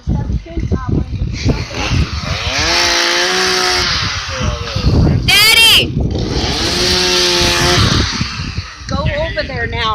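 A chainsaw revs and cuts in a backyard, loud and close with surging buzzing bursts and a brief drop, while someone shouts and talks over it.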